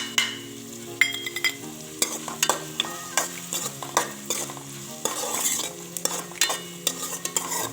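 Spices sautéing in hot oil while being stirred for a leftover-rice pulao: a steady run of close spoon scrapes and clinks against the pan over a light sizzle, no voices.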